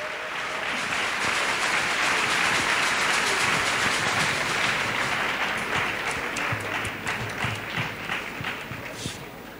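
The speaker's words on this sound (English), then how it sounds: "Let's clap." Sustained clapping from a large congregation at a church gathering, dense and continuous, slowly easing off toward the end, with a faint voice underneath.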